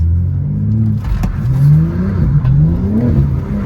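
A drift car's engine revs continuously as the throttle is held and released, the pitch rising and falling in repeated sweeps over a steady low rumble, close and loud with no talk.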